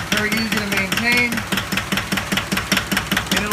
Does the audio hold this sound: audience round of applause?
no